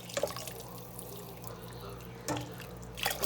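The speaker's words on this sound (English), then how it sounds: "thin this out with a bit of water." Water is poured into a thick, chunky pot of minestrone soup, giving a soft, close splashing trickle with brief louder gushes near the start, middle and end.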